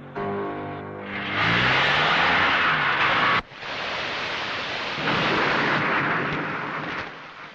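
A loud rumble of thunder rolls over heavy, steady rain, with a sharp break midway before the downpour continues at full strength.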